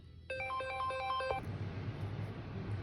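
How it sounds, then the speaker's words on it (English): A mobile phone ringtone plays a bright, repeating electronic melody for about a second close by during a laptop build, then cuts off, leaving a low room rumble. "Of course, my phone's going off."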